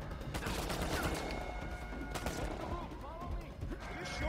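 Rapid gunfire bursts from an Uncharted video game, dense overlapping shots and volleys throughout, with game sounds and faint voices mixed in.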